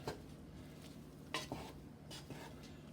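A spoon stirs marshmallows melting with butter in a warm pot while making chocolate rice bars, giving soft scraping scrapes and a few brighter clinks against the metal over a low steady hum.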